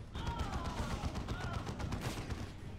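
Heavy machine gun fire in the video game Dawn of War 2 makes a dense, continuous rattle of rapid shots, loud and sustained across the whole stretch, with battle noise layered beneath.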